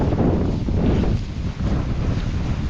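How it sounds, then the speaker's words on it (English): Waterfall at Gayle, a loud dense rush of falling water that fills the whole clip with steady roaring noise, partly buffeted by wind on the microphone; no speech. "And then I come across the waterfall."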